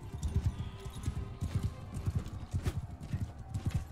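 A horse gallops in the Mount and Blade 2: Bannerlord video game, its hooves beating a fast, steady clip-clop rhythm at moderate volume for the whole stretch, with no voices over it.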